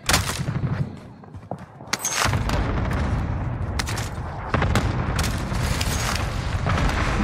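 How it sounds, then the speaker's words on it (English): Cluster strike explosions in Call of Duty Warzone, a dense barrage of booming blasts and crackling impacts rolling continuously, loud and close with a brief lull early on. "Allied cluster strike inbound."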